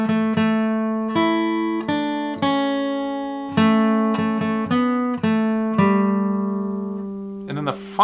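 Acoustic guitar picking the opening phrases of the fiddle tune Old Joe Clark, clear single notes and ringing strums in a steady rhythm, close and alone, ending in a short scrape.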